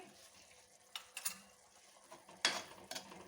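Ketchup and pizza pasta sauce being stirred in a pan, a few faint scraping and clicking strokes of the spoon against the metal, quiet and intermittent.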